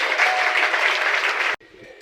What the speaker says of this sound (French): On peut aussi acclamer pour ça.